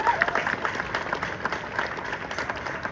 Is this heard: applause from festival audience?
yes